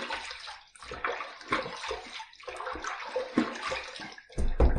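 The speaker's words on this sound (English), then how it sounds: "Let's just wet the face." Water is splashed onto a face with cupped hands before a razor shave, giving a string of close, uneven wet splashes and drips with a heavier slosh at the end.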